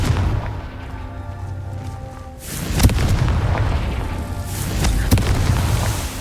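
Two heavy booms from Confringo fire spells in the Hogwarts Legacy game land a few seconds apart, each loud and sharp before rolling into a sustained roar, over a steady background.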